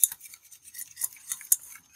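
Chicken stirred and mixed in a pan, heard as sparse, close, light scraping and clicking contacts of a utensil against the pan, irregular and quiet, with no talking.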